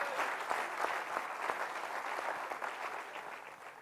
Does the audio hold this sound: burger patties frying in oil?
no